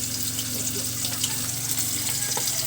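Food frying with soy sauce in hot oil, a steady close sizzle and crackle with light stirring clinks throughout.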